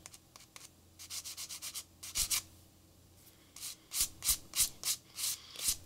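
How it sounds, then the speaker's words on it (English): A hand rubs across paper coated with glitter neon spray paint in a series of short, repeated scrubbing strokes, close and fairly loud, with brief pauses between bursts and no talking. "I'm not going to rub my hand on this too much"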